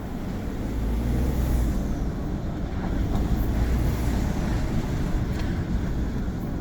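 Ford F-150 EcoBoost pickup with modifications driving with the windows down, a steady low engine and road rumble with wind noise, fairly quiet and even, heard from the cab.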